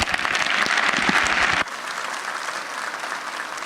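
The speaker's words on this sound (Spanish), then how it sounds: "Un aplauso, por favor." Enthusiastic audience applause at a Spanish-language panel debate on Industry 4.0: loud, dense clapping that cuts off abruptly after about a second and a half, leaving quieter room noise.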